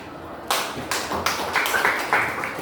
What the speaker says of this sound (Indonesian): Oke, tepuk tangan untuk semua.